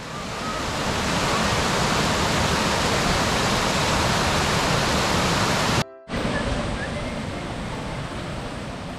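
A small, clear, cold stream fed by a waterfall near Malang rushes swiftly, giving a loud, constant broadband wash close to the microphone, broken by a brief dropout near the middle.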